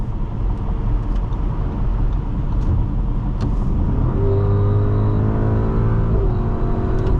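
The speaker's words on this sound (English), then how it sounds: "Excellent downshift." A 2025 Audi SQ7 4.0T Prestige engine revs up through a downshift from inside the cabin, a steady loud rumble that rises in pitch partway through and holds, with no talking.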